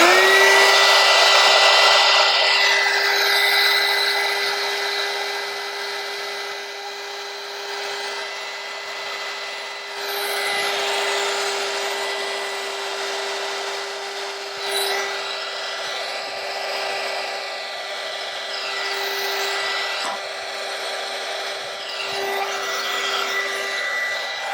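A heat gun shrinks heat shrink tubing onto a battery cable for an 18V portable battery pack, a steady close whine and airy blowing that holds for the whole stretch with small shifts in tone.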